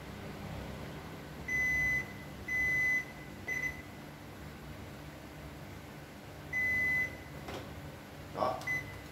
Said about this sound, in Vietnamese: nếu các bác mà không muốn mà bật nhạc như này thì các bác có thể tắt được nhé